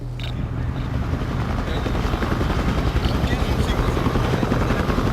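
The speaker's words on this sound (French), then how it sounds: "Des hélicoptères sillonnent le ciel." Helicopters flying overhead, a loud, steady rotor thump and engine drone that holds and builds slightly throughout, with a voice speaking over it.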